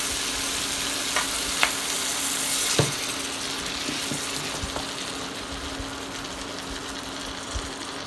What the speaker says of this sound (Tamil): இதை ஓப்பன்லேயே வச்சு குக் பண்ணுவோம்,